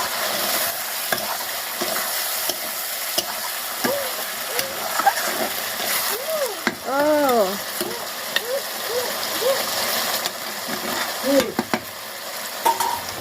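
Curry with ground dried red chilli simmering in a pan on a home stove, giving a steady sizzling bed with stirring scrapes, while a voice talks throughout.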